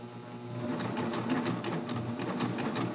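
A sewing machine runs at a slow, steady pace, sewing a triple cover hem along a folded neckline edge. The close, continuous mechanical whir and rapid needle chatter last throughout with no talking.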